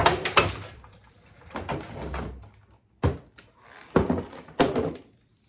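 A series of sharp plastic pops and thunks, clustered bursts with pauses between, as a Grand Marquis door panel is levered and snapped loose close by.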